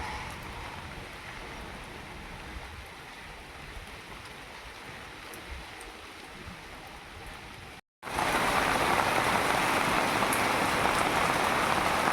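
Monsoon rain falling steadily on surfaces, a moderate constant patter that cuts out briefly before returning as a much louder, denser downpour, with no talking.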